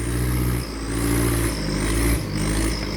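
A Kubota L4708SP tractor engine revs loudly through a loud aftermarket exhaust, rough and throaty, the pitch rising and falling in two quick surges close by.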